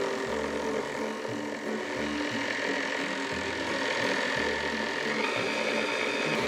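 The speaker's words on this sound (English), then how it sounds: "you wanna start your mixer on low with this" An electric mixer runs on low through apple cake batter, a close steady motor whir with a rhythmic pulsing churn.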